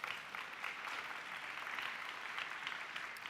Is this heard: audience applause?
yes